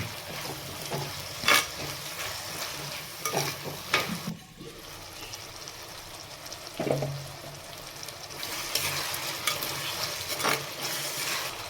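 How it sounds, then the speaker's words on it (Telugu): Tomatoes are stirred into boti curry frying in a pan, giving a low continuous sizzle with irregular scrapes and knocks of a spoon against the pan, some louder stirring bursts standing out. "టమాటా వేసుకొని బాగా మిక్స్ చేసుకోవాలి. ఇట్లా కలుపుకుంటూ ఉండాలన్నమాట"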